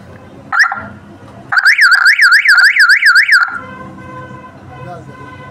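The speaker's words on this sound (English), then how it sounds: "This alarm is also 12 volts." A 12 volt alarm siren on a Nemtek electric fence energizer shrieks nearby: a brief chirp, then a loud rapidly warbling wail lasting about two seconds before it cuts off, with low background noise around it.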